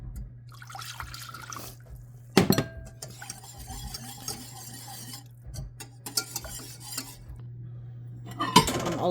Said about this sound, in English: I'll stir it until it's smooth and keep adding the rest of the broth